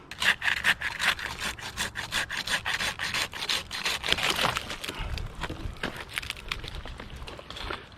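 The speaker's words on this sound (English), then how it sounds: "Trusty handsaw to the rescue." A handsaw cuts through wood in quick, steady back-and-forth rasping strokes, close and clear with no voices.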